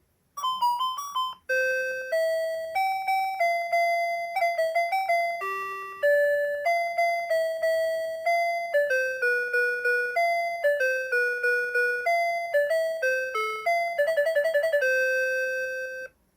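A 1979 Sharp Talking Time I clock sounds its alarm: a loud, clear electronic chime that plays a repeating melodic tune of bright tones for about fifteen seconds, with no voices.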